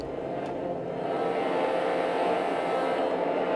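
Granular synth layer of harmonica overtones made from tiny 10-millisecond grains, a faint, hazy, buzzing drone that holds steady and quiet for a few seconds.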